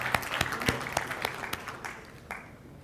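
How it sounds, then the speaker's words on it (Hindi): Applause from an awards ceremony audience, a steady patter of many hands clapping with sharp individual claps standing out, gradually thinning toward the end. "जोरदार तालियों के साथ हम उनका अभिनंदन करते हैं"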